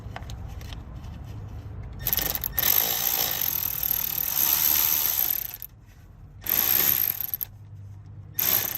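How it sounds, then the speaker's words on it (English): Milwaukee power tool tightening bolts on a 2002-06 Hyundai Santa Fe during AC compressor installation, loud sustained whirring and rattling bursts with brief pauses between runs, close up. "So let me take out my Milwaukee and tighten them."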